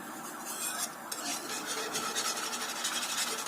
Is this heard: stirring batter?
yes